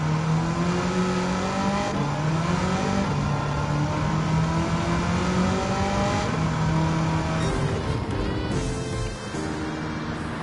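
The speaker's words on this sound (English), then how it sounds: "When you floor it, you're spinning the tires." A 1969 Corvette with a swapped engine held at full throttle in Gran Turismo 7, the engine droning loud and steady with rising and falling pitch as the soft racing tires spin.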